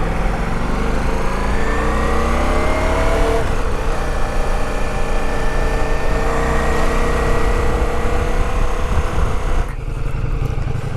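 A new motorcycle engine revs and pulls away on a ride, a loud close mid-pitched drone with rising tones as it accelerates through gears, then a brief dip near the end.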